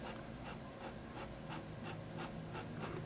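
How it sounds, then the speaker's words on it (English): An ink pen nib scratches across textured paper in regular strokes, roughly ten crisp scratchy bursts in a steady rhythm, close but quiet over a faint background hiss, with no talking. "you can hear the little scratch, that's because it's going against the texture of the paper"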